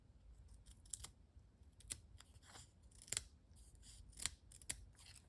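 Scissors snipping paper for handmade card making, a series of quiet close cuts and rustles at an irregular pace, with no talking.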